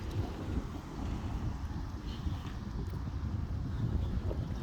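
Outdoor wind blusters on a sunny day, a low, rough buffeting that rises and falls against the microphone for several seconds, with no speech.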